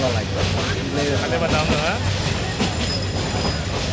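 A passenger train rolls along the rails on a journey through the Sylhet region toward Kulaura, with a constant loud rumble, squealing wheels and clattering carriages, and people talking over the noise.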